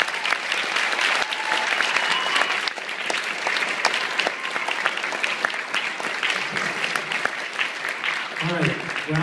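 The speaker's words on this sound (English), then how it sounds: "I think we need to give those band directors a round of applause" Audience applause fills a concert hall for the band directors at a regional honors band concert, steady dense clapping for the full stretch with a few voices near the end.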